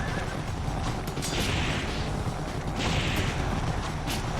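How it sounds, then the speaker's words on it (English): A horse enemy in the action game Ninja Gaiden Sigma lets out loud neighs amid dense, constant game noise, with clashing effects and busy mechanical sounds throughout. "I forgot that this game had horse enemies in the very fucking beginning"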